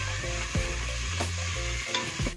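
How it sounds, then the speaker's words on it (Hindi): Ground coriander masala fries in oil with red chilli, a busy close sizzle broken by a few scraping strokes of a spoon across the pan. "इसे भी अच्छे से भुनेंगे। दो मिनट तक इसे अच्छे से भुने के पकाएंगे हम।"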